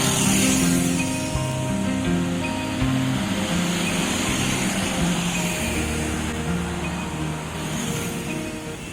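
Trans Semanggi Surabaya city bus run by PT DAMRI: a steady, loud interior drone of engine and road rumble with low humming tones, continuous throughout and without talk.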